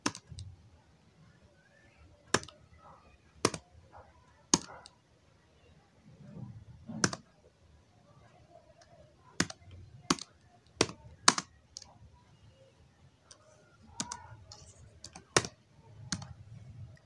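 A computer keyboard and mouse give scattered sharp clicks and short runs of typing as text is entered, with crisp isolated taps spread across a quiet background and faint low rumble between them.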